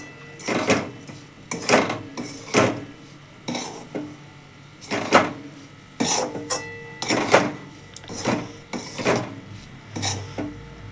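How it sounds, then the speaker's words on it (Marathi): Grated fresh coconut ladoo mixture stirred in a pan over a low flame, with loud rhythmic scraping and clanking strokes of a spoon against metal roughly every second, close up with no voices. "पाच दहा मिनटं बारीक गॅसवर एकदम हलवून घ्यायचं"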